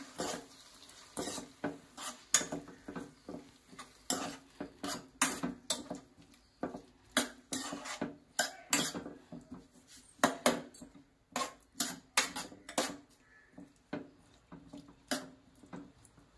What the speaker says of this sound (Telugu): సాల్ట్ వేసుకున్నాం కదా, ఒకసారి కలుపుకుందాం.